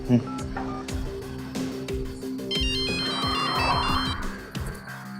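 An electronic phone ringtone plays a repeating melodic tune, with a voice speaking over it.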